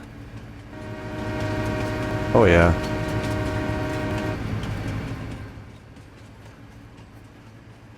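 A train horn in Farming Simulator 25 sounds with a rich, chord-like blast over rumbling rail noise, fading out afterward; someone speaks briefly under it.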